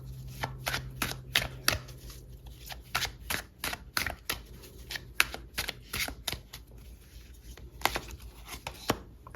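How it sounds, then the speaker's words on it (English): Tarot cards shuffled by hand in a quick series of crisp riffles and slaps, sharp and close, with short pauses between bursts and no talking. "let me give these a quick shuffle"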